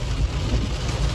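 Torrential rain pours down in Big Bear valley, California, a dense continuous roar of falling water with a low rumbling undertone, steady and close throughout the brief moment.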